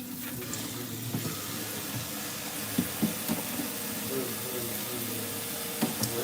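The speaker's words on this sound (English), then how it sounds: "And I'm just rinsing off this crab." Tap water runs into a kitchen sink while big pieces of Costco crab are rinsed for seafood gumbo, making a steady close splashing wash with occasional clatters and knocks.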